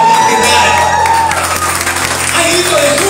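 A church congregation applauding and shouting with joy, a loud, dense mix of clapping and raised voices filling the whole brief moment.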